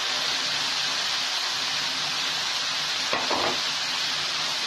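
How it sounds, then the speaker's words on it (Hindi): Grated bottle gourd halwa hisses and sizzles in a pan, with one brief stirring scrape late on over the steady frying noise, and no one speaks. "बहुत सुंदर मिक्स करती हूँ"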